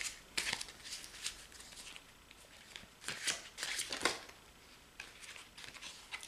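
A second tarot deck is shuffled by hand in soft, uneven bursts of riffling and papery flicks, close and fairly quiet, with short pauses between the runs and no talk.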